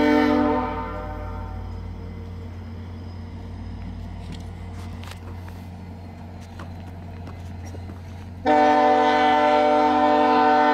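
VIA Rail train 87 sounds long, loud horn blasts at Stratford station, a sustained chord that fades, leaves rumbling engine and rail noise with faint clanks, then returns strongly near the end.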